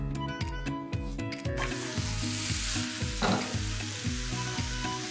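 Masala amboli fries in a hot pan, giving a bright, steady sizzle, while a spatula scrapes and flips it with rough rubbing strokes and a louder scrape partway through; no one speaks, and a rhythmic musical pulse plays underneath.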